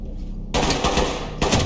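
A loud burst of rapid gunfire erupts after a brief quiet moment, continuing steadily with a second surge near the end, in the video game Ready or Not.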